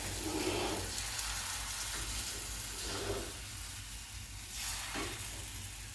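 Besan dosa batter hisses and sizzles on a deep iron tava, a steady frying noise with surges of louder steam bursts every couple of seconds.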